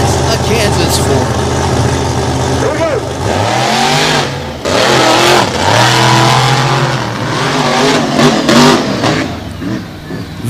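Two Ford race cars, one from Maryland and one from Kansas, roar past at a drag racing event, engines revving loudly with rising and falling pitch as they pass, while an announcer talks over the noise.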